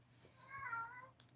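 A cat meows once, a drawn-out harmonic call lasting about half a second, fairly close, over a low steady hum in a quiet room.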